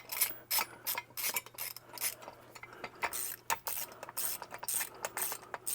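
A 13mm ratchet wrench tightens the bolts on a retractable vacuum cleaner's mounting bracket, giving rapid bursts of metallic clicking in an uneven, repeated rhythm, close up and fairly quiet.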